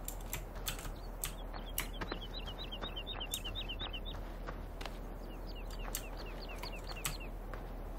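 A rooster in the Farming Simulator 15 video game makes a run of quick, faint clucks in the middle, with sharp clicks of a computer keyboard scattered throughout under a steady low hum.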